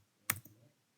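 A single quick click of keys being pressed on a computer keyboard, brief and fairly close, with a softer second tap just after in an otherwise quiet room.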